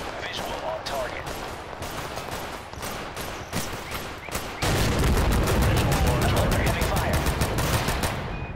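Gunfire in the video game Total Conflict: Resistance, scattered single shots that give way to a dense, rapid, continuous barrage of close automatic fire, loud throughout.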